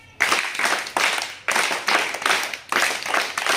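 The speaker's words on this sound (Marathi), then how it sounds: "तुमच्यासाठी जोरात तीन टाळ्या" Schoolchildren in a primary class give loud, sharp group claps: three big bursts, each a ragged cluster of hands landing nearly together, close and full.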